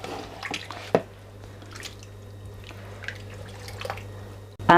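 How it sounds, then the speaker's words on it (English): Chickpea stock being stirred in a cooking pot for a black chickpea and potato curry: soft, faint liquid sloshing and occasional light clinks against the pot, with a steady low hum underneath. "We're just going to give it a stir."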